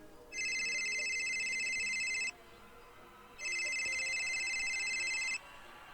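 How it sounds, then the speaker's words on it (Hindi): A phone rings twice, each electronic ring lasting about two seconds with a pause between, clear and fairly close. "लेकिन तभी जेराल्ड का फोन बज उठा।"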